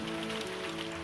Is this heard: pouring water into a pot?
no